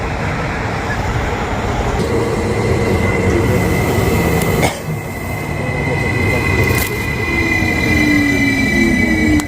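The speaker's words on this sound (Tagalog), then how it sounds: "Andyan na ang train." A train pulls into a station with a loud, steady rolling rumble and high metallic wheel squeals that rise and fade near the end.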